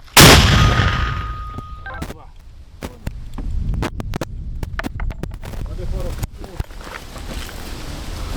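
A loud, booming mortar launch opens the clip during combat, followed by wind buffeting the microphone, scattered sharp clicks and bangs, and distant voices.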